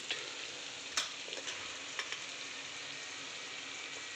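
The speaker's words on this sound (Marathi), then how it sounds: "फ्राय करून घ्यायचं आहे आपल्याला." Paneer with turmeric and chili frying in a pan, a steady close sizzle with a few soft clicks and taps of stirring.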